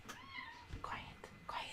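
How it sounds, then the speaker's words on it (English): A house cat meows a few short times, close by and under a woman's whispered, soft talk over a quiet room. "My cat is being annoying."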